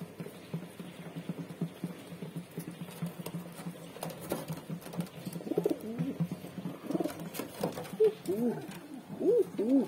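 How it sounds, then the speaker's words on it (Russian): Pigeons cooing close by in light morning rain, soft repeated throaty coos building toward the end over a faint patter of drops, with no one speaking. "С дождиком и голубочками."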